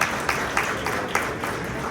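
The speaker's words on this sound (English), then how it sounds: "Can everybody give him a round of applause?" An audience applauds at a morning guest-speaker event, the clapping fairly faint and distant, with a few louder bursts standing out at a steady pace over two seconds and no talk on top.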